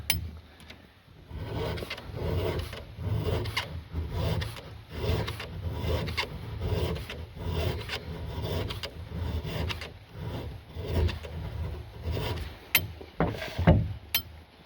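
A hand file works a square-ground chainsaw chain cutter with a steady series of close, rasping strokes in an even back-and-forth rhythm, a little over one per second, with a few sharp metallic clicks near the end.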